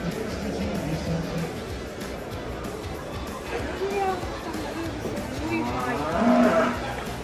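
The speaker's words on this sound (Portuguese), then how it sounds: "Minha nossa, olha o tamanho desse boi" Cattle at a large livestock show moo in low drawn-out calls several times against a steady crowd murmur, while nearby visitors chat in Portuguese throughout.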